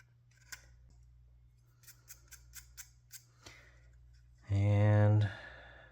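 Scissors or a blade trimming a thin wood strip on the deck of a Model Shipways Muscongus Bay lobster smack model boat: a run of soft, evenly spaced snips, then a short, louder, buzzy cutting burst near the end.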